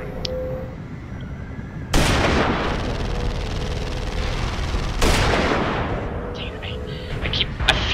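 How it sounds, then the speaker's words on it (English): Two loud, sharp sniper rifle shots in the sci-fi shooter Tribes: Ascend, spaced about three seconds apart, each followed by a long booming decay, with a faint electronic hum and some game effects around them. "Let me snipe right here"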